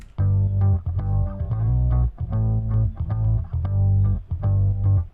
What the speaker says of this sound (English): all the bass sounds like this